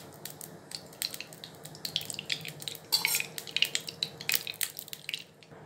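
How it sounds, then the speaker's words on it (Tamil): Oil poured bit by bit into each well of a hot paniyaram stone pan, giving faint, quiet sizzles and small dripping ticks in bursts over a soft background hum. "இப்போ நம்ம ஒவ்வொரு குழிக்கும் எண்ணெய் விட்டுக்கலாம். கொஞ்சம் கொஞ்சமாக எண்ணெய் விட்டுக்கலாங்க."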